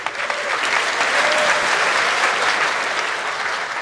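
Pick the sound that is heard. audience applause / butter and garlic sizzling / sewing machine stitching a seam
audience applause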